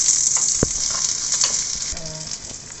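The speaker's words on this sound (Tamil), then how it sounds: "ஒரு காஞ்ச மிளகாவும் ஒரு வெங்காயமும் நல்லா அதை வதக்கிடுங்க" Dried red chilli and onion sauté in hot oil, giving a loud, steady, close sizzle with a few soft stirring knocks and scrapes and no speech.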